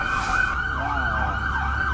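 A wailing ambulance siren on a city street, loud and steady, its pitch sweeping up and down continuously over a low traffic rumble, with no pauses.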